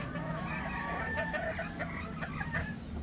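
Gamefowl laying hens in a pen cluck steadily and overlap one another at moderate distance, with a few sharper calls mixed into the continuous farmyard chatter.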